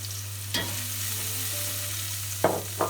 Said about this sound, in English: In the meat fat, put your onions.